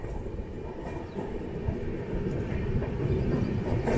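A passenger train, the Tambaram to Ernakulam Onam special, rolls along with a steady low rumble and rattle of carriages heard from inside, growing slightly louder over a few seconds.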